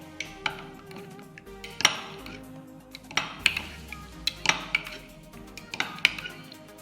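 A spoon stirs ice apple and palm juice in a glass or metal vessel, producing rhythmic clinking taps and scrapes repeating about every second or so, close and clear with no talk.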